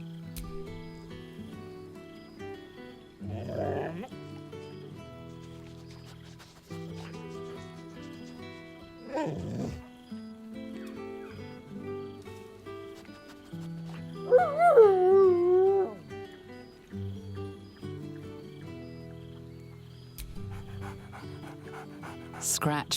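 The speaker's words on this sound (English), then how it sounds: "Scratch barks merrily in something like agreement." Dog panting, whining and giving short howling yips in Baldur's Gate 3, in rapid breathy bursts with whimpering pitch slides around the middle, while a narrator speaks over soft background music.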